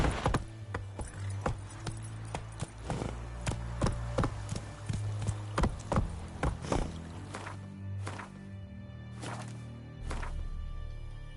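Roach the horse gallops in the video game Witcher III, with quick, rhythmic hoofbeats that sound close and crisp. The pounding thins out and slows toward the end.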